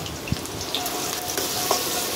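Thinly sliced onion drops into two tablespoons of hot oil in a wide kadai and starts a bright, close sizzle, with a sharp splash at the start and a few clinks from the pan, and no voices.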